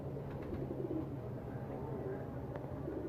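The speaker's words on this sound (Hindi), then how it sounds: "ये इमामदीन कबूतर है मेरे" Imamdin breed pigeons cooing in a loft, soft low repeated coos under a man's nearby speech and steady background noise.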